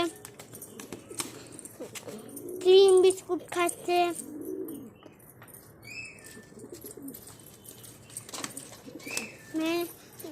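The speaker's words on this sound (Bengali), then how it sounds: "আমার পায়রা চানাচুর খাচ্ছে, বিস্কুট খাচ্ছে" Pet pigeons coo in soft, throaty bursts while eating chanachur and biscuits, with a few brief flutters nearby, as a person talks over them.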